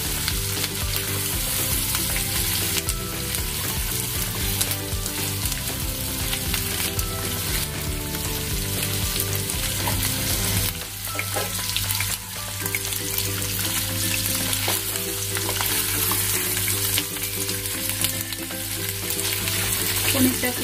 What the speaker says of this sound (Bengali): পনিরটাকে একটু নাড়াচাড়া করে নেব যাতে এই গন্ধটা এর ভিতরে যায় পুরোপুরি